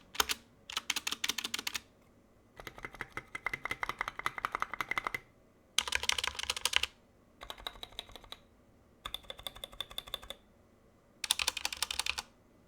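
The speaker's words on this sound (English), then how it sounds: "this is my first fully custom mechanical keyboard" Bursts of rapid clicky typing on a fully custom 60% mechanical keyboard, close and crisp, separated by brief quiet pauses, with no voices.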